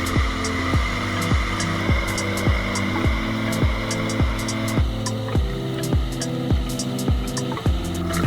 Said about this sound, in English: The drivers kept trying, running the engine with all their power to get out of the deep mud